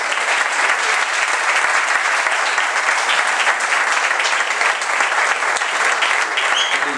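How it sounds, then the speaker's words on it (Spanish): Loud, sustained applause from a concert audience for a musician, dense and unbroken throughout, a close, full wash of many hands clapping at once. "Fuerte el aplauso de nuevo para Raúl."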